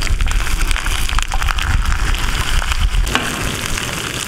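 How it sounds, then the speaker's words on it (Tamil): Whole green fish frying in oil on a village tawa with banana leaf, giving a loud, continuous close-up sizzle and crackle throughout. "மீன் அப்படியே முழுசா போட்டு பொரிச்சு எடுத்துக்கலாம்"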